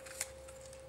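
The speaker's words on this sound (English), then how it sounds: "I'll squeeze the punch down" A handheld craft punch squeezes through card paper to cut a scalloped circle, giving a single short, faint snip-like crunch in an otherwise quiet room.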